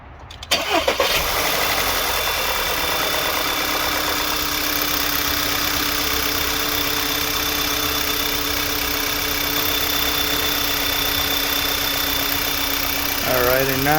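A 2013 VW Tiguan engine cranks and catches after an oil change, then settles into a steady, even idle that runs close and loud throughout.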